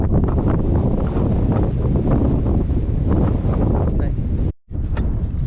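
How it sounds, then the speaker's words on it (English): Strong wind roars steadily over a cold, wet hillside on the Cape Wrath Trail in Scotland, buffeting the microphone with a dense, continuous rush that drops out briefly near the end. "it's bloody cold and windy and freezing again"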